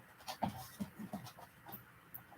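Puppies whimpering and panting nearby, soft short breathy pants and faint whines in an irregular rhythm, quiet against a low background.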